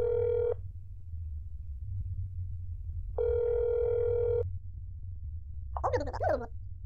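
Two steady telephone dial tone bursts in the horror game That's Not My Neighbor, each about a second long, clear and loud over a low background hum, followed by a brief warbling electronic chirp.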